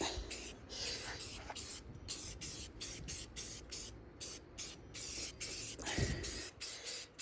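Rust-Oleum satin black spray paint coating metal golf cart brackets, heard as close, repeated hissing bursts with short gaps between them, continuing throughout.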